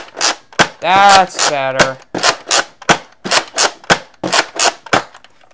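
A Nerf Double Dealer blaster fires foam darts in a quick string of about a dozen loud, sharp pops close by. A person speaks briefly early in the string.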